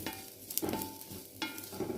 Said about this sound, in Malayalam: അപ്പോൾ ഇത് നമുക്ക് നന്നായിട്ട് ചുവക്കെ വറുത്തെടുക്കാം.